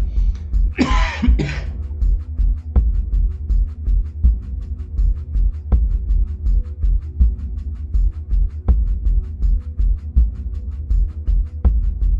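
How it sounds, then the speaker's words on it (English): A short burst of harsh coughing near the start, then a steady low hum with regular faint ticks for the rest. "sometimes you get a little coughing fit"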